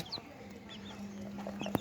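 Several 15-day-old chicks, including Sonali, Tiger and native breeds, peep in high, thin chirps, scattered and close by, over a faint background hum.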